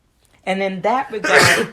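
A single sharp sneeze bursts out at the end of a short stretch of someone talking, close and loud.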